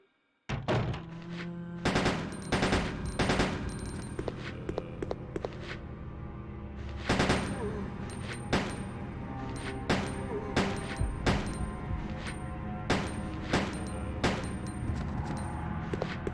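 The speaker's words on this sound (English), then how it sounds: "Okay, let's kill these zombies out here." Repeated gunshots blast while shooting zombies in the survival horror game Resident Evil Code Veronica, loud sharp reports in irregular bursts and single shots over a steady game ambience.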